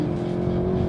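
Volkswagen Golf GTI with manual gearbox accelerating hard on a race track, a steady loud engine drone with strong low harmonics held throughout, heard from inside the car.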